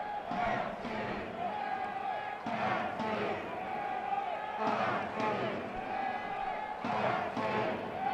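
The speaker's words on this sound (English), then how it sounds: "Ballard FC chants ringing through the stadium from the bridge keepers as energy starts to ride." Ballard FC supporters chant together in a stadium during a match, with rhythmic crowd voices rising and falling in repeated swells and bursts of cheering under the ongoing noise of the stands.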